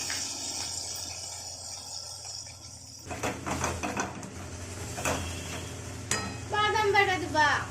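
Spice paste frying in oil in a wok, stirred with scraping strokes over a steady sizzle, louder and busier in the second half with clattering utensil hits.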